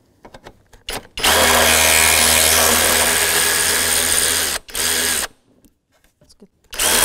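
A power tool with a 10 mm socket spins out radiator mounting bolts on a 2001-2007 Volvo V70, giving one long loud whirring burst, then a shorter run and a brief start near the end, with little talk between bursts.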